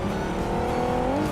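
In a video game, a car engine approaches with a brief rising hum. It is moderately loud and heard alone for about a second.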